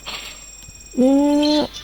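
A cartoonish cat meows once in the shop-management video game Shop Titan, a short clear tonal mew after a faint lead-in, loud and close.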